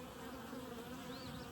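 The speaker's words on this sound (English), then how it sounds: "But she also has some attendant bees in there with her." Honey bees buzz steadily inside a queen cage holding a marked queen and her attendant bees, a close, continuous droning hum with a faint rising whine near the end.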